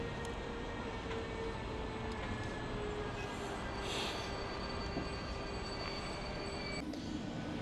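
Steady rumble of a passenger train rolling along the rails toward Nagykanizsa, Hungary, with a continuous low roar and faint metallic whines and clatter throughout.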